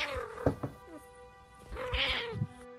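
An orange cat in the Turtle WoW version of World of Warcraft gives two drawn-out, tonal meows about a second apart, clear and close, over a faint steady game background hum.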